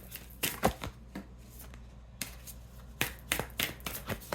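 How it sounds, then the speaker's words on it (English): Tarot cards being shuffled close up, quick riffling and slapping bursts separated by short pauses, with soft hand handling and card rustles in between. "they're okay with the shuffling of this one"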